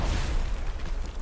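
A grenade goes off in Hell Let Loose on the Carentan map, a low rumbling boom that rolls on for the whole moment at moderate loudness, with no voices over it.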